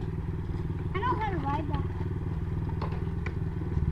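A pit bike motorcycle engine drones at a skatepark, a steady low throb with thumps and clatter while people shout excitedly over it.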